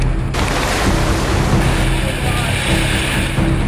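Chico River in Kalinga running high and rough after heavy rain, a loud, continuous rushing roar of whitewater with wind buffeting the microphone.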